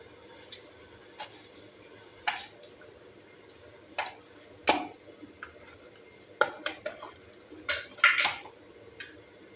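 Mustard and cumin seeds hit hot oil for a Rayalseema-style okra fry, giving sparse, irregular pops and crackles that come as single clicks and short clusters, faint and close against a quiet kitchen background.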